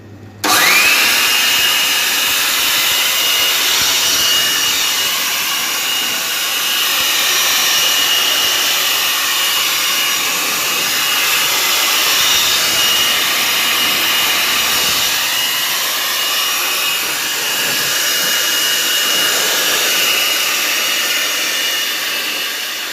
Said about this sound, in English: Here I'm just going to be using a standard leaf blower